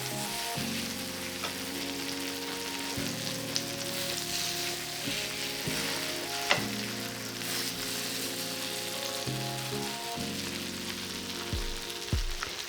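Slices of vegan goetta fry in olive oil in a pan, giving a steady crackling sizzle with scattered pops and a few sharp knocks of a utensil against the pan; a faint hum runs underneath.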